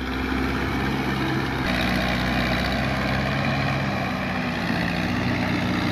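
An Iseki rotary tiller with a 2.8 engine runs steadily throughout, a loud, continuous low mechanical drone close by with no voices over it.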